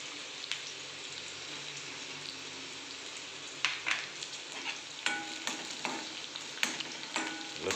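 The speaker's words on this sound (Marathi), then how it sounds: "आता लसूण टाकून घेऊया." Garlic sizzles and crackles steadily in a hot pan for a moratki misal-style dish, with sharper bursts of spattering and stirring clinks partway through, close and fairly loud with no talking.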